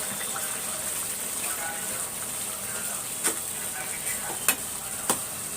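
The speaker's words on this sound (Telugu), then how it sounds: "ఇప్పుడు మనం సేమియా వేసుకోవాలి" Vermicelli tipped into a pan of half-cooked breakfast dish and stirred, a continuous bright hiss of frying with occasional sharp clicks of a spoon on the pan, close by, no speech.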